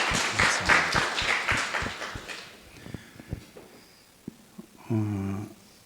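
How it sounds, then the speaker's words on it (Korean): Church congregation clapping after a hymn on a Sunday service, a burst of rhythmic claps that thins into scattered single claps, followed by a short voice or tone near the end. "우리 다시 한번 박수로 하나님께 영광을 돌립시다."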